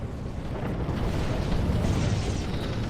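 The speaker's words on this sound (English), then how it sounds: "So here's some space combat." Space combat explosions in Sins of a Solar Empire: Rebellion rumble as a dense, continuous low roar of blasts, with no distinct separate booms standing out.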